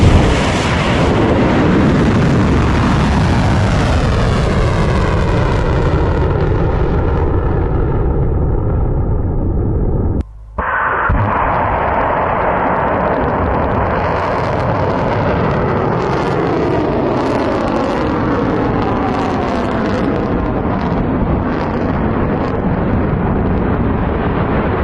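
Iranian missiles striking targets and exploding, heard as a continuous loud roaring blast wash with deep rumble, a brief cut near the middle, then renewed loud rumbling and crackle.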